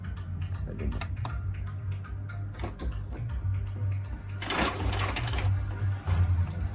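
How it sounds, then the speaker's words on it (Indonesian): An Epson L-series inkjet printer prints, with its mechanism making steady close whirring and rhythmic ticking. The carriage shuttles under a low continuous drone, and a louder surge follows midway through. "Kita akan coba untuk print, untuk fotokopi dan sebagainya"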